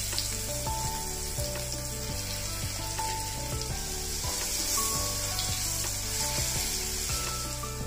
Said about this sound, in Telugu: ఇప్పుడు మనం మిక్సీ పట్టుకున్న చింతకాయ పచ్చట్ని ఈ తాలింపులో కలుపుకుందాం